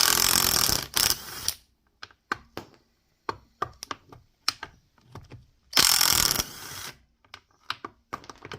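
Ratchet tools click and whir while an Audi A4 B5 brake assembly is taken apart, with two long bursts of rapid ratcheting and many separate close clicks, clanks and knocks between them.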